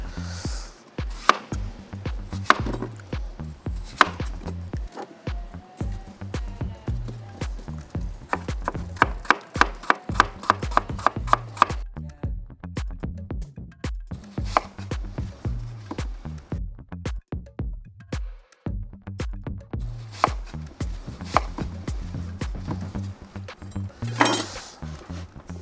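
A knife cuts ingredients into cubes on a board for a smoked pork rack meal, with long bursts of rapid, evenly spaced chops broken by short pauses, close and crisp.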